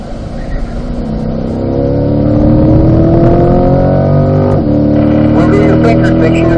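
A car driven hard on the Spring Mountain track, the engine note climbing as it pulls through the gears from third to fifth down the straight, loud and steady throughout.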